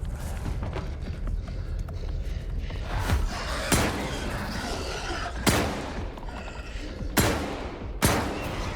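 Loud, sharp shotgun blasts in a shooter game, spaced a second or two apart across the stretch, each a single booming crack over a steady rumbling backdrop with mechanical clanks.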